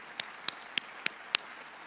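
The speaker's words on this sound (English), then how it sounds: "I'll applaud that too." A few separate hand claps, five sharp evenly spaced slaps at close range, a thin bit of audience applause rather than a full ovation, with no speech over them.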